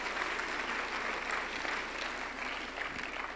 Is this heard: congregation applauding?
yes